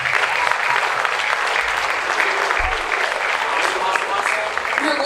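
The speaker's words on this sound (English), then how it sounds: "can we first off give our kids a round of applause for their pre-UIL performance?" A middle school band concert audience applauds the student musicians with steady, full clapping that runs throughout, and a few cheers and voices mix into the crowd noise.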